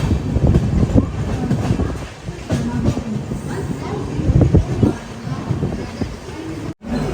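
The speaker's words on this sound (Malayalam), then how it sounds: "ദാദർ റെയിൽവേ സ്റ്റേഷനിലേക്ക് ഇതാ നമ്മുടെ ട്രെയിൻ എത്തി." The Siddheshwar Express pulls into Dadar railway station in Mumbai with a heavy low rumble and scattered wheel clanks, plus some wind buffeting on the microphone.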